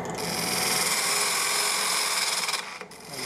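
Bowl gouge cutting a square rim on a wooden bowl spinning on a lathe, a steady loud shearing whir that runs for about two and a half seconds before dropping away.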